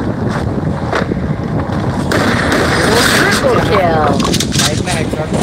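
Gunfire in the mobile shooter Free Fire: a few sharp shots crack early on, then a steady rushing wind-like game ambience takes over, with voices present in the mix.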